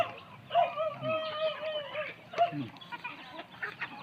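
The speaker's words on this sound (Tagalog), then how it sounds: "Pagkadaming manok" Chickens cluck and squawk nearby on a farm in short, uneven calls, with faint rustling and outdoor background noise.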